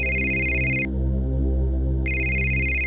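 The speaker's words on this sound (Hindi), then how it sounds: "योगेंद्र का फोन है।" A phone ringtone plays loudly and close, an electronic melody of sustained tones that briefly drops in pitch before resuming.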